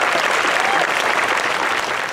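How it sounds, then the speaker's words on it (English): A crowd at a naturalization ceremony applauds for a Girl Scout troop, producing a continuous, loud wash of clapping with no pauses. "About a nice hand of applause for the Girl Scout troop of 12926 in Greenfield, Massachusetts"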